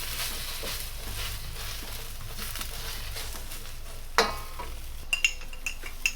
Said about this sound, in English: I'm gonna let my onions cook for about 5 seconds